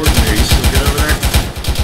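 Sustained automatic machine gun fire in ARMA 3 during a squad battle, rapid evenly spaced bursts that run without a break, loud and close.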